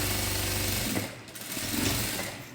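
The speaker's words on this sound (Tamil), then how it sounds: "அடுத்து 3வது தையல் 1/4 இன்ச் தள்ளி கெட்டி தையல் போட்டு ஸ்டார்ட் பண்ணி போட்டு 3 தையலையும் போட்டு முடிச்சிடணும்" Sewing machine stitching the side seam of a blouse, a steady rapid mechanical whirr and clatter that runs throughout at moderate loudness, easing briefly near the middle, with no voices.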